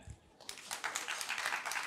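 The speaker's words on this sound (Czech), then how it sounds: "Zatleskejte mi pro mikrofon" Small audience of about eight people at a Czech history talk clapping briefly after a request, scattered hand claps starting quietly then filling in densely, close and moderately loud, no speech over it.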